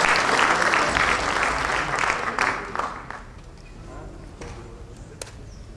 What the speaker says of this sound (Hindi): आप सभी तालियों के साथ इसका समर्थन करें।